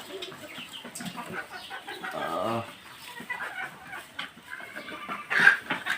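Several native desi chickens cluck softly and peck at feed nearby, with scattered low clucks and a sharper squawk near the end.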